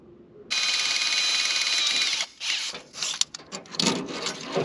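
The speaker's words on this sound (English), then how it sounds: "Cylinder hone's actually hitting something in here." A cylinder hone running inside a lumpy, carbon-damaged engine cylinder of a 4x4 1.5-ton Chevy truck: a steady abrasive grinding whir that then breaks into uneven, catching rasps and scrapes, close up with no talking.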